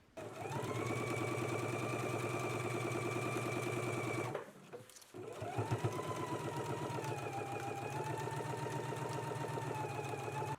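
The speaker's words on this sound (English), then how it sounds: "Let's go ahead and sew our side seam now." Sewing machine stitching a garment side seam, a steady close mechanical whir running about four seconds, a brief pause with a clunk, then another long continuous run with rising and falling motor pitch.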